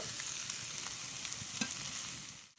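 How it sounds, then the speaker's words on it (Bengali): Spices with salt and turmeric sautéing in a pan for a rohu fish curry with taro and new potatoes: a steady close sizzle and fry with light stirring scrapes, no voices, before a brief drop at the end. "লবণ হলুদটা দেওয়ার পরে একটু ভালো করে কষিয়ে নেব"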